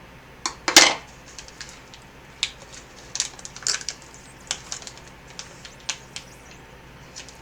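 A spoon mixes food in a container, making a sharp clink at the start, then a string of lighter, irregular taps and scrapes, close and fairly quiet.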